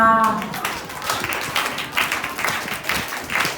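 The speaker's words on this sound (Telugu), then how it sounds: "ఒక్కసారి క్లాప్స్ కొడతారా?" Children at a vacation Bible school lesson clap together, a dense spattering burst of hand claps that holds for a few seconds, fairly close and loud, with a voice briefly at the start.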